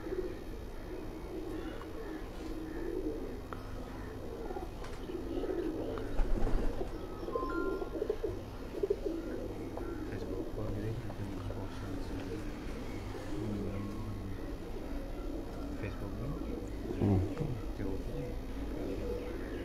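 Kasuri bloodline pigeons coo in a loft, a soft continuous murmur of low calls with occasional chirps and a few brief clunks, faint traffic hum underneath.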